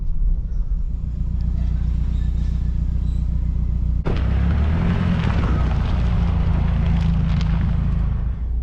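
A 2007 Mazda CX-7 with a 2.3-litre engine that runs lean and loses power rumbles steadily on a test drive, a low droning engine and road noise that swells louder partway through.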